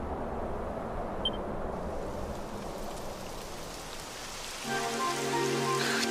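Steady rainfall begins in the video game Dragon Quest XI, a continuous soft hiss of drops on surfaces, with a musical tone entering over the rain near the end.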